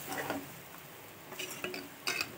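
Metal spoon scraping and clinking against a pan while stirring mushroom curry topped with coriander, a few short scrapes at the start and end with quieter mixing between, close and moderately loud, no voices.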